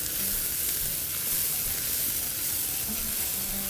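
Salted herring with onion and garlic sizzles steadily in a frying pan while it is stirred, a continuous close hiss with faint scraping and no talk.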